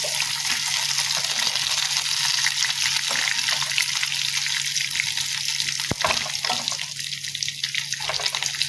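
Chicken pieces fry in hot oil in a pan, a loud, continuous sizzle and crackle that holds steady throughout, with one brief clatter near the end and no talk.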